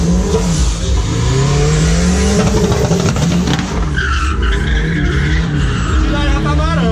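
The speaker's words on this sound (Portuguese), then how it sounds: "tá virando tanto que tá queimando o pneu" A naturally aspirated Chevette drift car revs hard while its tires skid and squeal as they burn, heard loud and close from onboard, with engine pitch rising and falling and voices talking over it.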